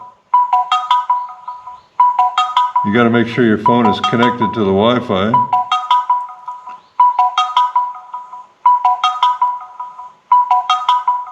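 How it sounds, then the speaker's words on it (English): A Birdfy Smart Bird Bath Pro plays a repeating electronic chime during setup, several ringtone-like bursts at steady intervals, with a person talking over the middle stretch. "The device is chiming and the blue light is blinking."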